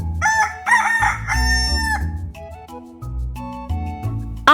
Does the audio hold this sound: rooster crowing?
yes